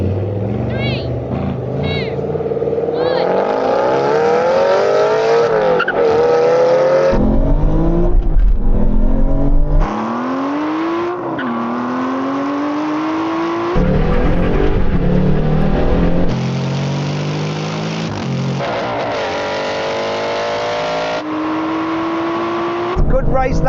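Aston Martin Vantage GT8 and GT4 accelerate hard in a rolling-start drag race from first gear out to the half mile, engine notes climbing through gear changes with loud, sustained revving under occasional talk.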